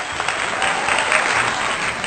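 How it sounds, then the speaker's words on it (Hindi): An audience at a Hindi poetry gathering gives poet Nisar Pathan a steady round of dense, even applause from many hands, filling the whole moment without pause. "जोरदार तालियां निसार पठान जी की।"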